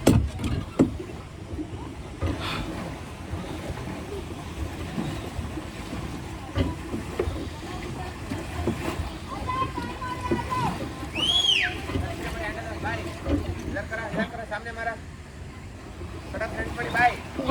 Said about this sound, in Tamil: இப்போ கரஞ்சி லேக்கில் போட்டிங் போயிட்டுருக்கேன்